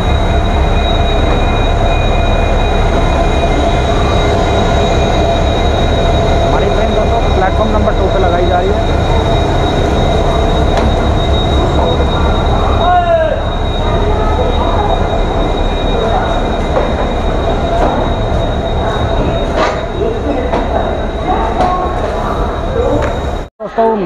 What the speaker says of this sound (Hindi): ट्रेन आ गई है